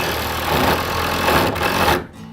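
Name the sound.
screws being driven into wooden sled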